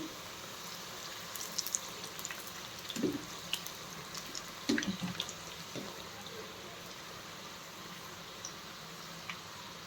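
Crispy snack deep frying in hot oil until lightly coloured: a soft, steady bubbling sizzle with scattered pops, heard under a person talking.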